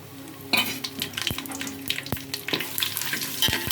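Whole garam masala fries and sizzles in oil in a pot for a Hyderabadi dum biryani, with sharp scrapes and knocks of a spoon stirring at irregular intervals, close and fairly loud.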